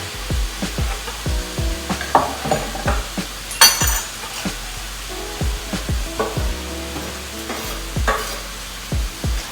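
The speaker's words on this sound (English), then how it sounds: "I'm going to go ahead and saute these onions and the garlic together" Onions and garlic sauté in a pan with olive oil, sizzling steadily while a utensil scrapes and stirs in repeated, close knocks; no voices.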